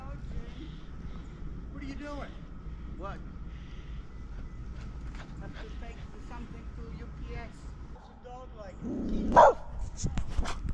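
A dog barks a few scattered times at a moderate distance in the snow, with people talking quietly in the background.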